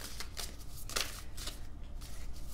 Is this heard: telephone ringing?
no